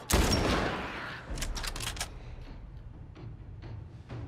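A loud gunshot rings out in The Last of Us, followed by a rattling burst of rapid fire and then sparse, fading shots against a low rumble.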